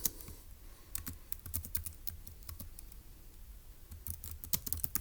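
Soft, scattered keystrokes on a computer keyboard as notes are typed up, coming in short uneven bursts with pauses between them, fairly faint against a quiet background and with no talking.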